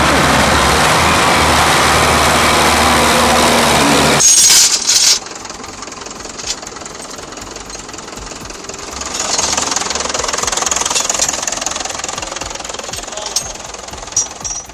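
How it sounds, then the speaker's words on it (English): Fiat and another 60-horsepower tractor straining against each other in a tug-of-war in mud, a loud rough diesel engine clatter that drops away abruptly, then a quieter engine rumble rising and falling. "The Fiat and major tractors, both boasting 60 horsepower, face off in a gripping tug-of-war."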